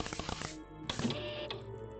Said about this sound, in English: Card printer.